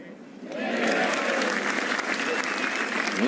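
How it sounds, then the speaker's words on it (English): Golf spectators at the 2017 Open Championship burst into applause and cheering around the course, the crowd swelling in after a brief lull and holding a broad, somewhat distant roar. "Little roars and cheers and all sorts of applause around the course today"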